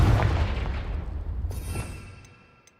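A Confringo blasting spell in the video game Hogwarts Legacy goes off with a single heavy boom that rumbles and fades over a couple of seconds, with faint sparkling tones in the tail.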